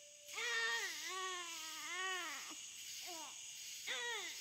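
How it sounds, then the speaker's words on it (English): A newborn baby crying in a forest, a close wailing cry with rising and falling pitch, broken into several short bursts and breaths. "did you hear that? Sounds like a newborn baby."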